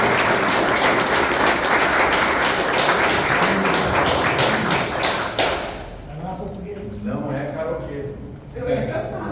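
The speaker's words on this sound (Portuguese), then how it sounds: "uma salva de palmas a ela, hein?" Applause at a railway workers' union meeting in Porto Alegre for a woman called to the front, a dense burst of clapping that breaks off midway, followed by scattered voices and room noise.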